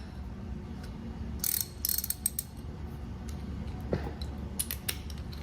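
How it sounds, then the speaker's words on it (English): Clicking ratchet mechanism cranking a strap tight for bending wood, a few bursts of quick metallic clicks with pauses between, fairly close and moderate in level. "Guess it's my wood bending ratchet"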